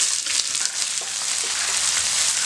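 Small onions fry in oil for goat liver fry, crackling and sizzling steadily in a hot pan, a bright hissing spatter with a few soft knocks beneath.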